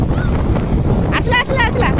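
Sea waves wash up on Puri beach under strong wind buffeting the microphone, a steady loud roar of surf with excited voices shouting over it.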